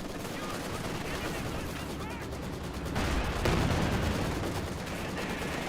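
An artillery barrage and rattling gunfire in the World War II strategy game Company of Heroes 2 form a dense, continuous roar of explosions and shots that swells midway, with a commentator talking over it.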